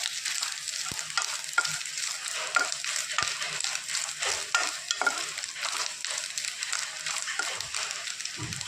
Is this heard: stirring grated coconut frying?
yes